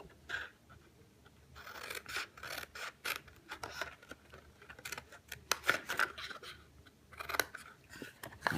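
Scissors cutting through card stock for a paper treat box, a string of crisp snips and crunches at close range, coming in irregular clusters over a quiet room.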